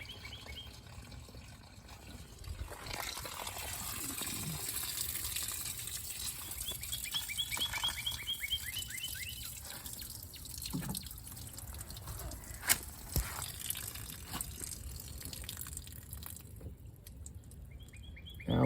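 Water drains and trickles steadily from the front rain drains of a Porsche Boxster, a continuous splashing, dribbling wash with occasional louder drips, close by and without talk.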